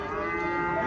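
A cow moos once, a short, loud, close bellow at a cattle market where local dairy cows and Sahiwal bull calves are being sold.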